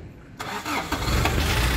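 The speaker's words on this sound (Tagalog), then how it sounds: "Bob, start mo the engine." A 1982 Toyota Corolla station wagon engine cranks and catches after a brief quiet moment, then settles into a steady, close, loud idle with a slight rev.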